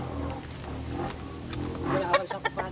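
Chickens cluck and call faintly on a farm, scattered bursts over a low background murmur, louder toward the end.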